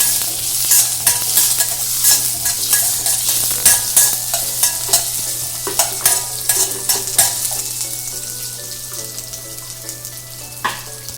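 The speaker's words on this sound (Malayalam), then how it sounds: "ചെറിയ ഉള്ളി ഇട്ട് കൊടുക്കാം. ഒരു 3-4 ഇതെല്ലാം കൂടെ നന്നായിട്ടൊന്ന് വഴറ്റിയെടുക്കണം" Small shallots sautéing in a pan for a crab roast curry, a loud continuous sizzle broken by frequent sharp scrapes and clacks of the stirring spoon, up close and alone.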